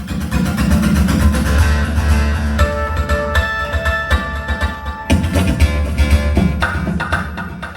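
A guitar runs through a combined quarter-note and dotted-eighth-note delay, its repeats stacking into a bouncing, rhythmic echo pattern over a heavy low drone, played loud in a room with no talking.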